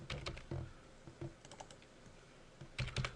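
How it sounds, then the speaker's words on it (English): Someone types a number on a computer keyboard: a few quick, close key taps in a short burst, then a pause and a second cluster of clicks. No one speaks. "I'm going to type in"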